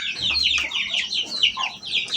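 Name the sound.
chicken clucking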